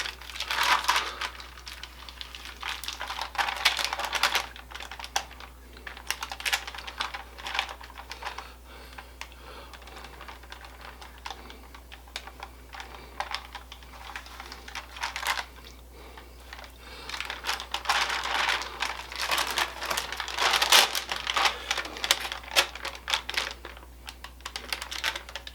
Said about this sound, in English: Try to get the parchment off of the butter.